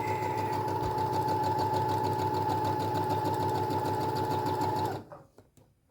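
A sewing machine stitching a fabric tube for a scrunchie, running steadily with a fast mechanical whir and rhythmic needle knocking for about five seconds, then stopping, followed by faint handling clicks.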